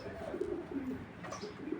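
A large foreign racing pigeon coos nearby in a low, soft, repeated rumbling call, with a few faint chirps in the background and no talk.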